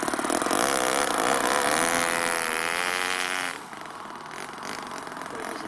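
A small four-stroke engine in an RC buggy idles with a lumpy, uneven beat, loud and close, then drops slightly in level partway through and keeps running steadily.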